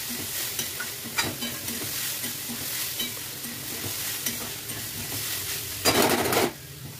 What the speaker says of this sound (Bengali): হলুদ দিয়ে দিলাম, দিয়ে ভালো করে আমি নেড়ে ছেড়ে ভেজে নিচ্ছি।